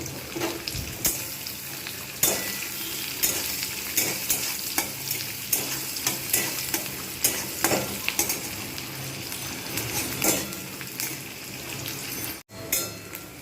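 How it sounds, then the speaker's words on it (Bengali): Onions sizzle in hot oil while a spoon stirs and scrapes the pan in a loose, repeated rhythm; no one speaks. "এবারে পেঁয়াজ দেবো পেঁয়াজটা লাগছে করে ভেজে নেবো"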